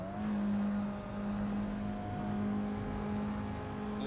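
A car engine in Assetto Corsa traffic mode drones at a steady, moderately loud pitch with a faint whine over it and no clear rev changes.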